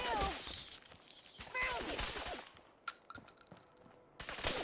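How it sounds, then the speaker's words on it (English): Gunfire from the Fallout 4 video game cracks out in short bursts and scattered single shots, mixed with clinks and game effects, while a voice talks over parts of it. "Well, shoot him, Piper."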